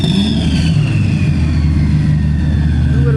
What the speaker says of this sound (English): the Lamborghinis are here, revving as they do